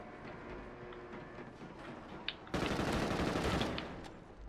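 Gunfire from a video game weapon fitted with a muzzle brake, a dense steady burst that swells loud at the midpoint and holds, then eases off, with no talk over it.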